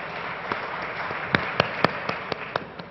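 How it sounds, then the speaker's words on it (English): Audience applause at a startup pitch competition, a soft bed of clapping from a crowd with a few sharper, closer claps standing out as GILD is welcomed to the stage. "Round of applause for GILD."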